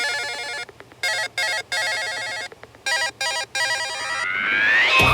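A mobile phone ringtone rings loudly in repeated bursts of bright electronic tones with short gaps, rising into a sweeping melodic tone at the end, with no one speaking.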